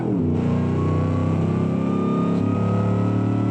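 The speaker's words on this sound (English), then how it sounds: "Oh my god, that supercharger whine is so good." A supercharged American car engine in the Automation game, Hellcat-like at around 707 horsepower, revs steadily upward with a loud, continuous mechanical howl and a high supercharger whine layered above the engine note.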